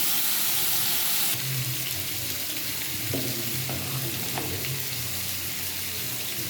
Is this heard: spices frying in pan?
yes